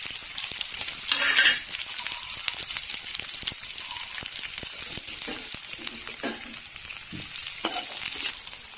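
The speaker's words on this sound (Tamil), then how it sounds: "இப்போ வெங்காயம் வதங்கிடுச்சு." Onion, curry leaves and chillies fry with a steady, close sizzle in a pan, broken by repeated scraping stirs of a utensil throughout.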